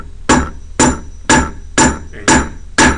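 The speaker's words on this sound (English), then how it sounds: "And it takes a bit of hammering to do this" A hammer strikes a metal rivet into denim jeans in six steady, evenly spaced sharp blows, each a close, loud impact with a brief ringing tail.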